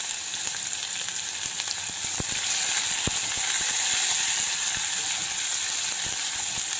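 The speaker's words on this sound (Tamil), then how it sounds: "எண்ணெய் சூடறட்டும். கடுகு, சீரகம், பட்டை, வெந்தயம் இதெல்லாத்தையும் போடுவோம். இதோட சேர்த்து வெங்காயம் போடுவோம்." Onions fry in hot oil with mustard seeds, cumin, cinnamon and fenugreek, a steady bright sizzle with occasional sharp pops and ticks, close and continuous.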